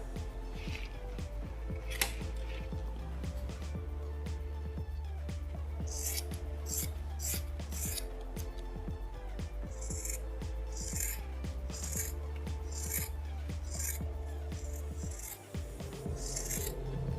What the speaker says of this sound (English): I will cut the fabric with this template for 4 pieces.